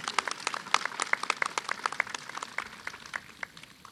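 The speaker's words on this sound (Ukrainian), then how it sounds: "ваші оплески луганським медикам" Applause for Luhansk medics at a ceremony handing over ambulances, a steady patter of many hands clapping at moderate volume, fairly even throughout with no voices over it.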